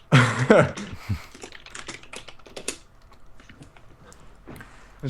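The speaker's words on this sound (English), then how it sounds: "I hear a clicky clicky keyboard" Rapid clicky keystrokes on a computer keyboard, close and busy at first, then thinning to scattered taps.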